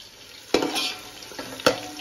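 Chicken being mixed with spices by hand in a metal dish makes quiet wet squelching and rubbing sounds, punctuated by two sharp clinks against the vessel.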